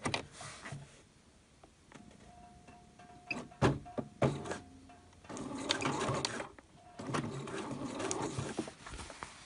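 A sewing machine stitches across a softshell jacket in short bursts of rapid needle chatter, stopping and starting, with quiet handling sounds between runs.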